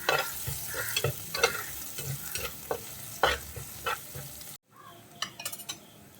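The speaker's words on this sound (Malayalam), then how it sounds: "ഇതെല്ലാം കൂടി നന്നായിട്ടൊന്ന് വഴറ്റിയെടുക്കാം" Onions and green chilies sizzle in a pan for a Kerala choora fish curry while a spatula stirs and scrapes in repeated strokes, close and steady, pausing briefly before resuming.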